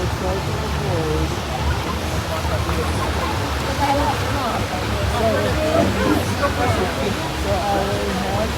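A waterfall pours into a hotel lazy river pool in Las Vegas, a loud, steady rushing wash of water filling the scene while people talk and chatter nearby over it.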